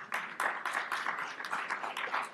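Audience applause at an expo event, fairly faint and somewhat distant, with a run of irregular claps continuing throughout.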